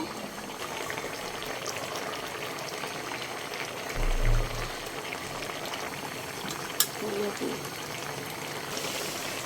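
Fish and potato curry simmering in a pan, a steady soft bubbling hiss with a few louder blips and a sharp clink, heard under someone speaking Bengali.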